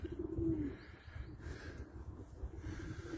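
Pigeons cooing in a wooden coop nearby, soft low throaty coos repeating over a quiet background with no talking.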